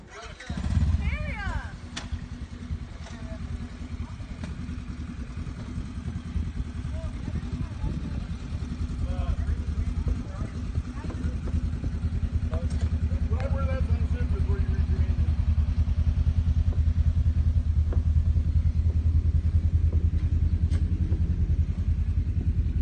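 A 1966 Chevelle engine while driving, a steady low rumbling drone that grows gradually louder and stays constant, with speech over it.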